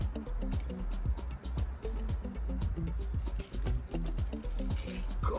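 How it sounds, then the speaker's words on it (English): A cocktail is poured into a glass bottle: a continuous trickling and glugging of liquid with rapid drips and splashy ticks, close up and fairly quiet. "After, we will pour it in a bottle,"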